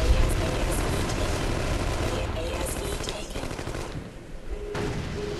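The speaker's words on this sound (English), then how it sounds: "someone is trying to shoot me from behind" In The Conduit's online multiplayer, gunfire roars in dense, continuous bursts that fill the whole stretch with booming chatter, while a player talks over the shooting.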